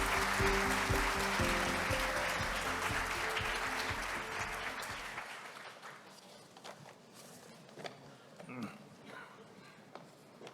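Forum audience applauding to welcome a speaker, a dense wash of clapping that holds steady for several seconds, then thins out into scattered claps and room noise.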